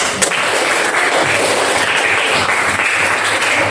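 Students in an Indonesian primary classroom clap their hands together, a steady, dense wash of applause that stays loud and even from start to finish, with no voices standing out.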